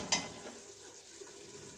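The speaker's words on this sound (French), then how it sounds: "on va couvrir la viande d'eau chaude" Hot water poured over simmering meat in a pot for Moroccan couscous, a short splash at first and then a steady soft hiss and bubbling from the pot, no voices.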